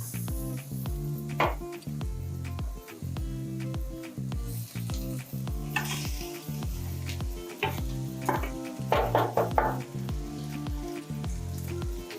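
Cooked rice sizzles in a hot pan for restaurant-style veg fried rice, with a soft continuous frying hiss and scattered scrapes and clinks of a spoon stirring, over steady rhythmic background music.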